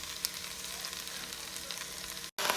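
Lentils sautéing in a pot over low heat give a steady, close sizzle and crackle with faint stirring, cut by a brief dropout near the end, with no talking.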